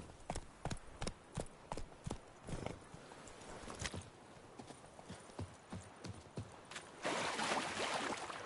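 A horse's hooves clip-clop at a steady walking rhythm in The Witcher 3 game, a clear series of close, evenly spaced knocks, joined near the end by a rising wash of broadband ambient noise.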